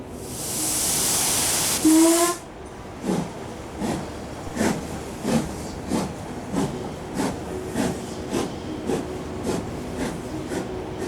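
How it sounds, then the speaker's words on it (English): A loud burst of hissing air gives way to the steady rhythmic clacking of train wheels over rail joints, repeating at an even pace. "Very nearly the last train of the day."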